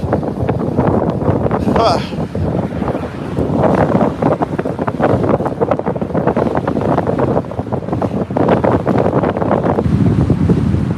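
Wind buffets the microphone in a loud, continuous roar while someone rides an e-bike along a mountain trail, with someone talking over the rush the whole time.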